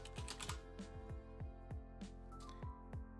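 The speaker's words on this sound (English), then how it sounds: "I'm just gonna keep typing stuff unless I get some more ideas here." Keys clack on a computer keyboard in a quick, uneven run of soft taps, close and faint over a steady hum.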